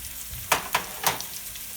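Green chili dropped into a pan of hot oil with onions gives off a quiet, steady sizzle, broken by three short bursts of crackling spatter, with no talking.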